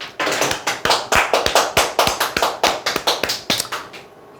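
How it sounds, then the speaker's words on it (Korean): An audience claps hands together in a strong, regular rhythm of sharp, close claps, about a dozen and a half beats, fading out at the end with no talking. "박수 한번 칩시다."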